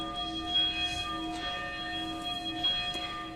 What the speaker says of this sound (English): 4 minutes of bell ringing, 1 minute for each victim.